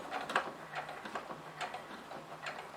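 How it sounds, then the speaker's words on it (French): A sewing machine stitches along a fabric handle of a small coin purse, with quick irregular mechanical ticks and clicks at close range and no voices. "Et je couds jusqu'à la fin de l'anse."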